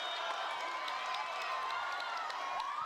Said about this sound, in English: their crowd is certainly getting into it